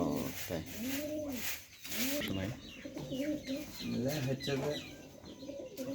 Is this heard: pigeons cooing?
yes